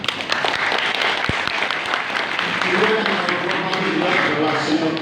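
Applause at a campaign gathering honoring veterans: a crowd claps steadily and densely for several seconds, loud and close, with a few sharper individual claps standing out.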